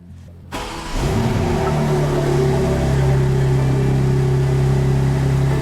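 A BMW M4 G82 engine with a Stage 2 tune cranks and catches, then settles into a steady, loud idle hum close by.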